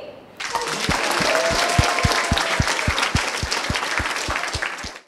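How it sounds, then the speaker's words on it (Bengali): Sustained applause from a school audience honoring a student who won second prize at a school event, steady clapping throughout with a faint rhythmic thump beneath and a brief crowd murmur. "জুবায়েরের জন্য হবে জোরে একটা হাততালি"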